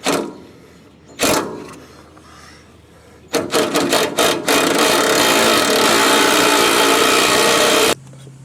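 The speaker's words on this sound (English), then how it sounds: "for that one, I'm going to cheat and I'm going to use an impact" Impact wrench loosening a sway bar end link nut on a Ford F150 front end, starting with a few short bursts, then a burst of rapid hammering followed by a long, loud continuous rattling run that stops abruptly.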